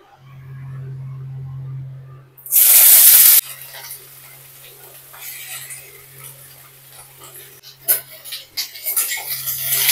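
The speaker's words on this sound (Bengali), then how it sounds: "চিকেনের জন্য এখানে পেঁয়াজ ভাজছি" Onions sizzling in a pan for a chicken dish, with a steady low hum of a stove or fan beneath, a brief loud burst of hiss near the start, then soft crackling frying with light clatter toward the end.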